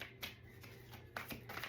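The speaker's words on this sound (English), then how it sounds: "I'm going to do one full shuffle" Tarot cards being shuffled by hand, a few quiet riffling flicks and soft taps at irregular intervals, close and faint.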